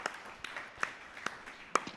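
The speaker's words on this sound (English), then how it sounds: "Please give yourselves a round of applause." Podcast guests and audience give a short round of applause: a sparse handful of distinct, fairly quiet claps spaced out unevenly over a couple of seconds, with no talking.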